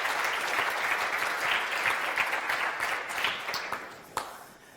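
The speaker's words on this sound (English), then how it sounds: "please, round of applause" Sustained audience applause fills a conference hall after a talk at a Node.js event, dense and steady for several seconds before thinning out with a few last claps near the end.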